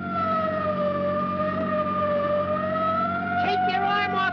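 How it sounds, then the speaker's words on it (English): A steady wailing siren with a tonal, slowly varying pitch holds loud and continuous throughout, with brief warbling bursts near the end, in an old comedy film scene aboard a plane. "Keep your arm off that siren."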